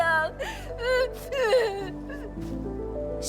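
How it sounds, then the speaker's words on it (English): A child whimpers and sobs in the video game Arknights Endfield, wavering high cries in short bursts over soft sustained background music. "Wait, I think I hear a child crying."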